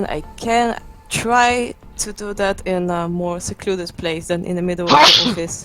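A single short sneeze bursts out near the end, sharp and loud, right after a stretch of close conversational speech in an office-like setting.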